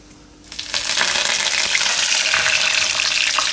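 Curry leaves drop into hot oil with cumin seeds, and a loud sizzle bursts up suddenly and then holds steady and intense, with crackling spatter throughout.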